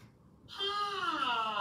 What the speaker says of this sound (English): That is the airplane.